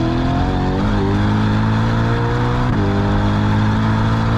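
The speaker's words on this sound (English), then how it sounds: "does it make a nice noise? Is the engine exciting and lively?" A car engine revs loud and steady, its tone climbing and then dropping briefly before rising again, with a continuous deep drone throughout and no voices.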